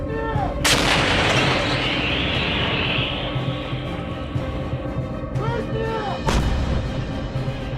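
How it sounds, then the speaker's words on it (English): Artillery of a military forces group fires a precision strike, heavy booms with rolling echoes across open terrain, loud and close, two distinct blasts several seconds apart with sustained rumble between. "Artillery, which is part of the YUG Forces Group, launched a precision strike towards Seversk"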